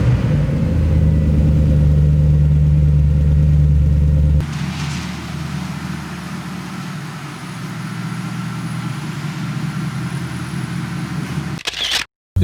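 A Mercedes-Benz W204 C63 AMG with its 6.2-litre V8 and aftermarket exhaust pulling away slowly, a loud, deep, steady engine rumble that drops in level partway through and continues as a lower drone until cutting off abruptly.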